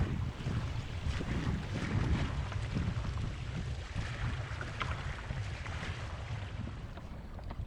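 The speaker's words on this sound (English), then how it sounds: "as we close the land, the wind becomes lighter and more fickle" Steady wind rushes over a sailboat heading toward Baiona near the mouth of the Vigo estuary in Spain, a continuous low buffeting roar on the microphone with faint water sounds and no voices.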